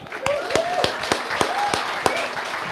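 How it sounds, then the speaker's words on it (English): Audience applause at a UK launch event for an art product line, a steady patter of many hands clapping with a few sharper claps standing out, moderately loud and fairly close. "I think that deserves another round of applause."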